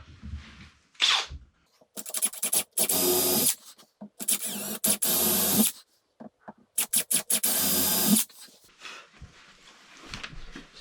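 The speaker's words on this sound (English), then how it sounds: "So now we just drill holes." A power drill whirs in several loud bursts, drilling holes for cabinet shelves, starting and stopping repeatedly with short pauses between, close by and without talking.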